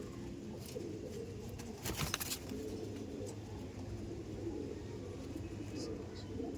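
Andhra pigeons at a bird seller's coo softly in low, repeated murmurs, faint and somewhat distant against quiet background noise, with a brief burst of rustling partway through.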